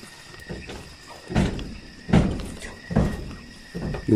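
A door moving in a quiet indoor space, with a few dull thunks and knocks spaced through the stretch, fairly close and moderately loud, with no talk over it.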